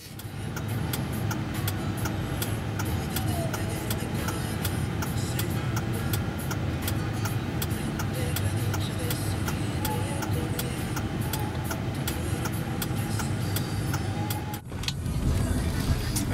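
A car driving steadily, heard from inside the cabin: a constant low road and engine rumble with faint ticking on top, holding even throughout with a brief dip near the end.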